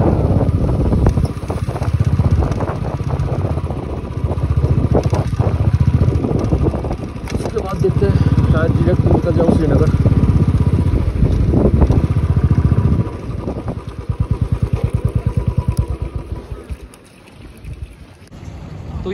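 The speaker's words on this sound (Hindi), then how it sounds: "यहाँ पे रोकता हूँ एक बार बाइक" Motorcycle engine on a mountain road ride in Kashmir, a continuous loud rumble mixed with wind buffeting that drops to an idling putter as the bike stops, with someone talking over it.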